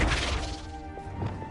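A Flipendo knockback spell striking in Hogwarts Legacy, a short crashing thud with a brief ringing tail and a couple of lighter impacts trailing after.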